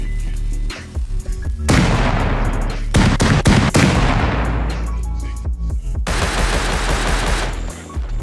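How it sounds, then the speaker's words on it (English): Repeated bean can grenade blasts going off in the survival game Rust, loud booming bursts with crackling debris tails, several overlapping explosions in quick succession with brief gaps between them. "I couldn't find enough rope, so I had to use bean can grenades"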